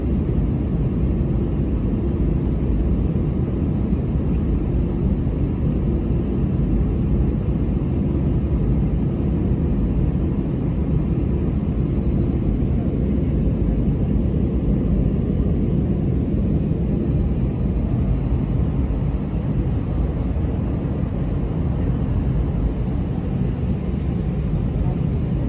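A passenger airliner taxiing on the runway in bad weather, heard from inside the cabin as a loud, steady low engine rumble and roar that holds unchanged throughout.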